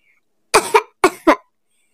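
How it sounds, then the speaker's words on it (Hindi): Four sharp coughs in two quick pairs from a cartoon child character, close and fairly loud, with silence around them. "अब देखो हो गई ना खांसी"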